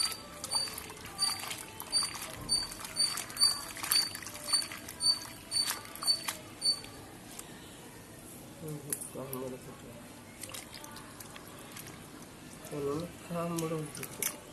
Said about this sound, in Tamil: அதில் நிறைய தண்ணியை ஊற்றி இதெல்லாம் நல்லா அலசிக்கணும்